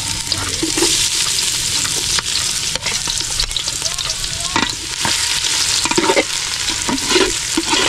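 Steady loud sizzling of garlic frying in a hot pan, with occasional scraping and stirring clicks, close and continuous.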